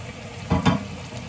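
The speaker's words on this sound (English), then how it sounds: "So the ham steak's in there. Got the pan preheated and it's in there cooking." A ham steak cooks in a preheated pan with a faint continuous sizzle, interrupted by two quick, soft knocks or stirring scrapes close together.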